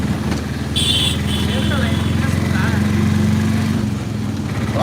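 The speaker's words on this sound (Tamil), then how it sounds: "பைக்கில் ரெண்டு பேர் போகிறாங்க பார்த்தீங்களா" A motorcycle carrying two people passes by, a steady loud engine drone with a rising and falling pitch as it goes, heard under talk.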